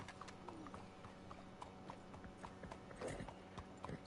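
Horse hooves clip-clop in a steady, fairly close rhythm in the Red Dead Online video game, with a few brief brighter knocks and faint background noise.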